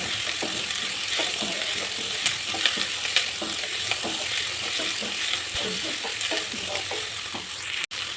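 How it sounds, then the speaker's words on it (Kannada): Fried broad beans are tipped into a hot pan and stirred, producing a steady, close sizzle overlaid with repeated scraping strokes of a spatula against the pan. "ಈಗ ಏನು ಜೋಳಿಕಾಯಿ ಹುರಿದಿಟ್ಕೊಂಡಿದ್ದಲ್ಲ ಆ ಜೋಳಿಕಾಯಿ ಇದ್ರಲ್ಲಿ ಹಾಕ್ತೀವಿ"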